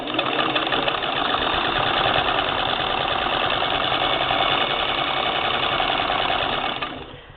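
1947 Singer Model 66-16 sewing machine running a straight stitch: a steady, fast mechanical whir and needle chatter, close and even, that runs nearly the whole time before winding down at the end.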